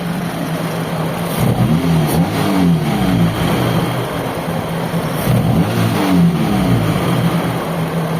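Car engine idling in a repair shop, a car whose idle keeps dropping and stalls when the gas pedal is released: a loud, steady mechanical hum with two swelling revs, no talking.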